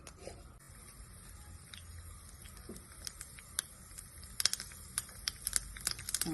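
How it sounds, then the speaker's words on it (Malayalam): Sparse crackling and sharp pops from mustard seeds spluttering in hot oil, growing denser and louder toward the end over a low steady hiss. "കടുകൊക്കെ പൊട്ടിയിട്ടുണ്ട്"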